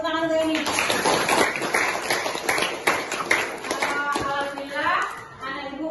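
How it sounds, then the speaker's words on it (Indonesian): A classroom of high school students claps together on the teacher's prompt, a dense burst of hand claps lasting several seconds that rises and trails off. "Kasih tepuk tangan untuk ini."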